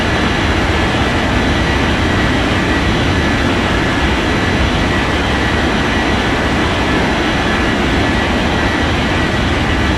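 Steady, loud broadband jet engine roar from an airliner taking off in the air traffic control game Unmatched Air Traffic Control, holding constant throughout with no voices.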